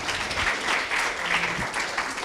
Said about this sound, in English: Let's give a round of applause to all of our panelists, please.